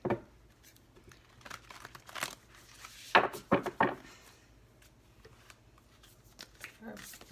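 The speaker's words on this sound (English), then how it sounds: "All right, one more shuffle." Tarot cards are shuffled by hand, giving crisp papery riffles and sharp flicks that cluster near the middle, under a quiet speaking voice.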